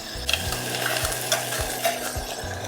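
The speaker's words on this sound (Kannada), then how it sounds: "ಈ ಅಕ್ಕಿನ ನಾನು ಇದಕ್ಕೆ ಸೇರಿಸ್ತೀನಿ" Soaked rice is added to a hot pan with fenugreek for methi rice and stirred, giving a close, steady sizzle with repeated scraping strokes of a spoon against the pan at a regular rhythm.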